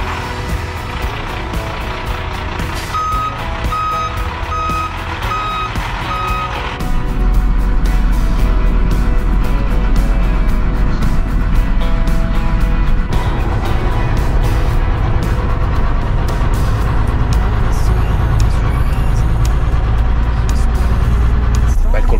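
A camper van's engine idles with a brief beeping, then the van pulls away and drives on with a loud, steady low drone and road rumble, someone talking over it throughout.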